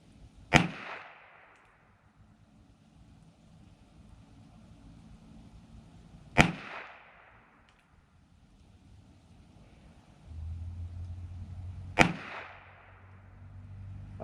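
Three sharp .22 rimfire reports from an H&R Young America double-action revolver firing CCI short hollow points, spaced several seconds apart, each a crisp crack with a short ringing tail at moderate distance, with a low hum between shots.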